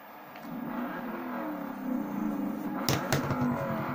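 A sports car engine revs and whirs steadily at close range, building slightly in intensity, with a couple of sharp clicks near the end and no talking.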